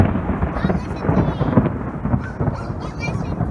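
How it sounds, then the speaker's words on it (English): Thunder rumbling over Lake Elsinore during a storm, a loud low rolling rumble that swells and fades across the few seconds, with faint chirps above it. "God, please, more thunder."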